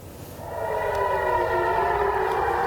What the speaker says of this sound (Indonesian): Sirine seperti yang kita simak ini pemirsa terdengar meraung